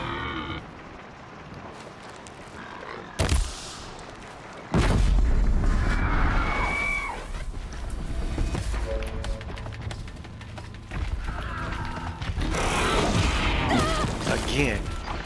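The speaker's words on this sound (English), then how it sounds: "I wish I could just throw a bomb in there" A blast bomb explodes in the Horizon Zero Dawn video game with a sudden heavy boom. Rumbling game noise and machine sounds follow, along with a player's voice talking.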